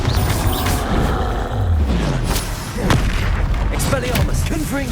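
Bombarda spell blasts in Hogwarts Legacy combat, heavy booming explosions among a rapid chain of other spell effects, with dense layered impacts and whooshes throughout at steady loud level.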